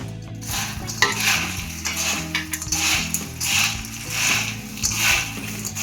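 Fried kara boondi and other fried snack ingredients being stirred and tossed together in a vessel, a steady scraping, rustling mix with clinks of a spoon against the pot, close and continuous, under background music.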